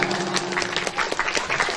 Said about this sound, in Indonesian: Tepuk tangan dulu nak ibu kita.